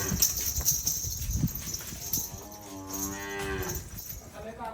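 A heifer gives a long, drawn-out moo at close range. Livestock shuffling and hoof clops can be heard around it, with some faint talk in the background.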